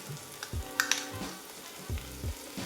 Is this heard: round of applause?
no